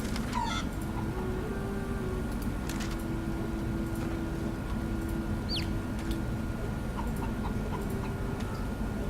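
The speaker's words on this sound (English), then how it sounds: "Why is there a spirit chicken?" Chickens in the video game Divinity Original Sin 2 cluck and chirp in short scattered calls over a steady hum of game ambience and music.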